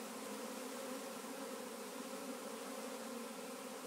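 A honeybee swarm moves into a hive set up beneath a tree, producing a dense, continuous buzzing hum that stays steady and evenly loud for the whole stretch.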